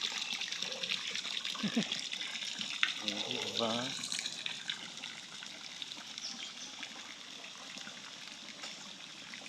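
A dragon-shaped fountain spouts water in a steady splashing trickle, heard fairly quietly beside a pool with lotus plants, as a voice briefly speaks near the start.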